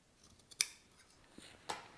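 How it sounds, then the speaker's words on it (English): Scissors make two quick, faint, sharp snips, close by in a quiet room, while trimming fabric from the facing of a wrap front dress. "I'm going to trim away the rest of the facing the fabric on the facing"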